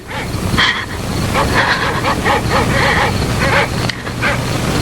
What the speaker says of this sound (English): Those dreadful dogs. They sound so terribly ominous.